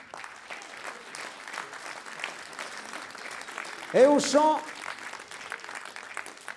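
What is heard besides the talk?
concert audience applause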